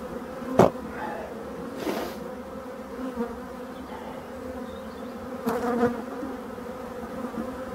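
A steady drone of many honey bees buzzing close around a hive, with individual insects whizzing past the mic now and then; no talking.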